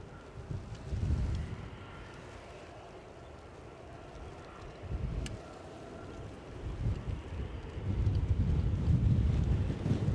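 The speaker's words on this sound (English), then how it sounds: "So often that wind just takes you off balance." Wind gusts buffet the microphone at an outdoor plane-spotting spot in Edinburgh, Scotland, as rumbling bursts that rise and fall and then grow stronger and more sustained toward the end.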